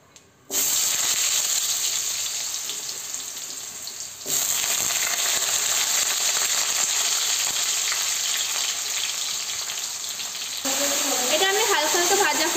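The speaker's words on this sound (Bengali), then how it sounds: "এটা আমি হালকা হালকা ভাজা করে নেব" Washed potatoes fry in a pan, giving a loud, steady close-up sizzle that runs for several seconds, with a brief shift partway through as they are stirred or added, and no speech.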